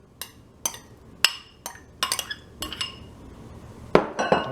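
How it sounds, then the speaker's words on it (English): A utensil stirs about a 16-ounce bag of mixed vegetables in a pot for chicken pot pie, giving irregular metallic clinks and scrapes, close and sharp, with a cluster of louder knocks near the end. "I'm going to mix this up good."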